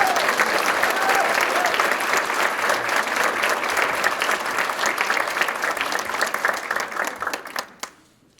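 Audience applauding award winners at a newspaper ceremony honoring local nurses, a sustained wash of clapping from a sizeable crowd that holds steady for several seconds, then thins out and stops.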